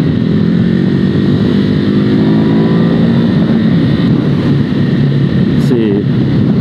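Onboard ride on a 2019 Ducati Hypermotard 950, the engine's loud, throbbing drone with rising and falling pitch under heavy wind rush, close and constant throughout.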